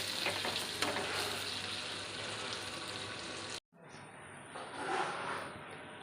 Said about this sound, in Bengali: উচ্ছের পানিটা মরে গেলে কম আঁচে ভাজবো